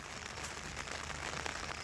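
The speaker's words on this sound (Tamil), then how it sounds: "மழை லேசாக தூக்கிட்டு இருக்குது" Light rain falls steadily on a morning village scene, a soft continuous patter with broadband hiss and faint close drops, heard alone without talk.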